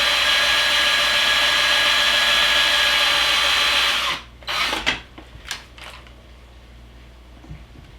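A power drill whines steadily into wood at close range for about four seconds, then stops, followed by a few short bursts.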